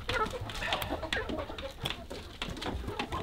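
Several chickens cluck and murmur close by, soft overlapping calls in an irregular patter, fairly quiet.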